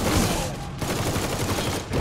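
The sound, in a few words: gunshot headshot in Mafia 3 video game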